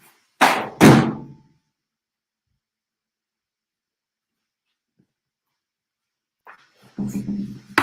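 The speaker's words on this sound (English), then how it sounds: "I'll just close the door and come back." A door in an indoor room shuts with two quick, solid thunks close by, followed by long silence and then faint movement and muffled sounds near the end.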